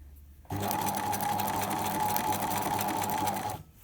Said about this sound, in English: Start with some lock stitching, go backwards a little bit, come forwards